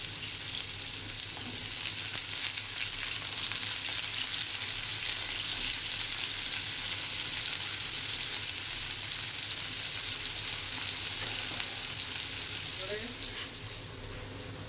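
Potatoes frying in oil, a steady, fairly quiet sizzle that holds evenly throughout with faint clinks near the end and no clear talk.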